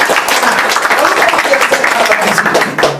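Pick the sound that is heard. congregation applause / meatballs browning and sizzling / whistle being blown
congregation applause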